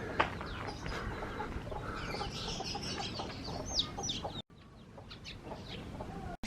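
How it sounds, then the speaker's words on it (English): Chickens and a small chick clucking and peeping in Tangerang near Jakarta, Indonesia, soft close calls repeated over a busy outdoor background before a brief cut. "Chickens, a little chick."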